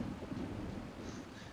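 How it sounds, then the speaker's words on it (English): Steady rain falls with a low rumble of thunder underneath, a dense continuous hiss at moderate distance, with no voices. "Despite the fact that it's still raining,"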